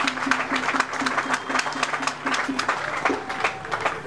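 Audience clapping at an official ceremony in the DR Congo for a newly built building complex, steady and partly rhythmic, filling the hall continuously with some voices mixed in.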